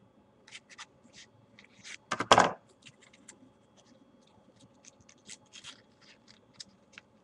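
Scissors snip through paper while making a paper balloon, a series of short, crisp cuts, with one louder rustling crunch near the middle; close and otherwise quiet.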